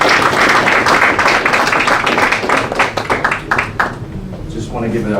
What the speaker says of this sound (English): Again, another round of applause.